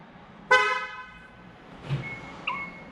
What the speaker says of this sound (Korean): 지금 시동이 걸렸습니다